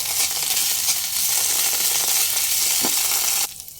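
Ginger and cumin paste sautéing in a pan over medium flame, a steady close sizzle with crackling throughout before dropping off sharply near the end.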